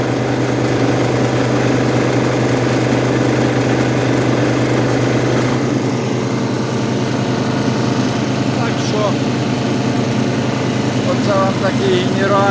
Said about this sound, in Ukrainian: Ну, він чим хорошо, цей моторчик підгазовує.